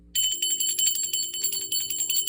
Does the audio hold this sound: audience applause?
no